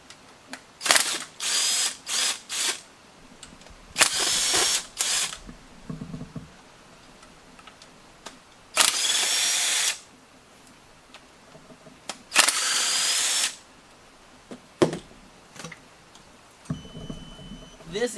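Bursts of a power tool whir on and off in a workshop as a vacuum pump is taken off a truck engine during an LS/LT engine swap, with short runs separated by quiet clicks and handling noises.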